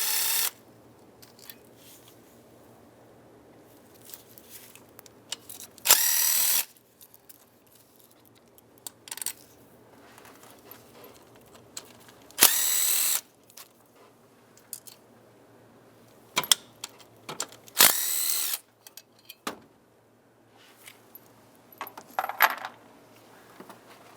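Ratchet and metal tool work on the engine of a 2007-2015 Mazda CX-9 removing the 5/16 bolts on the fuel rail and injectors: short bursts of quick clicking and clinking separated by quiet pauses, close and sharp.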